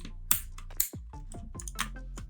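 Keycaps pried off an E-YOOSO Z686 60% mechanical keyboard with a removal tool, giving a few sharp plastic clicks and clacks spread over a couple of seconds, close and fairly quiet.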